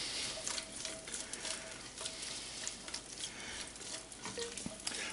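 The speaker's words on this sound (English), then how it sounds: "And I'm going to take and stir those with a heat-resistant spatula." Onions sweating in bacon fat for red cabbage, stirred with a heat-resistant spatula: a continuous soft sizzle with faint scraping strokes, steady and close, without speech.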